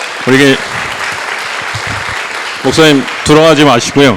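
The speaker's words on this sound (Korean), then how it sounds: "우리 말씀 이렇게 전해주신 목사님께 박수 한번 드리도록 하겠습니다." A church audience gives a pastor a steady round of applause after his sermon, a broad, even clatter lasting a few seconds between short bursts of someone speaking.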